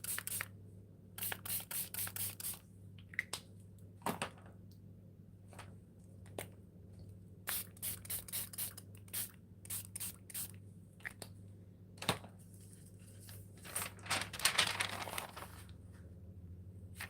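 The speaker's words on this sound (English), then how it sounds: "let's just spray it with something." A spray bottle or can is fired in several short bursts through a stencil onto thin deli paper, each hiss brief and close, with quiet rustling between bursts and no voices.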